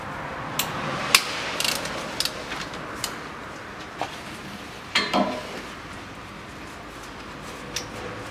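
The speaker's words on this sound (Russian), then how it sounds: "Берем здесь шестигранник и откручиваем нижний болт." A hex key loosens the lower bolt on a brake caliper of a CFMOTO CF625 X6 ATV, heard as quiet, sparse metallic ratcheting clicks and taps at irregular intervals over a faint background hush.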